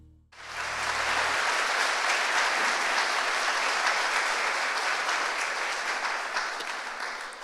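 An audience at the 2025 Pasadena State of the City address breaks into loud, sustained applause, swelling quickly after a brief quiet start and holding as a dense roar before easing slightly toward the end.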